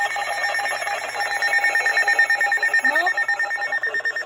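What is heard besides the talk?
Canadian emergency alert attention tone for squall warning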